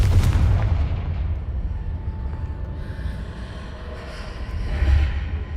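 A Confringo fire spell explodes in the game Hogwarts Legacy with a heavy, booming blast that fades into a low rumbling tail. A second deeper swell of rumble rises near the end, and no one speaks.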